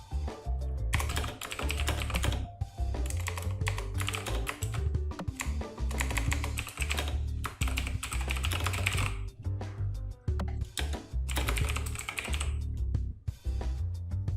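Rapid typing on a computer keyboard, close and clear, with dense bursts of key clicks and short pauses between runs.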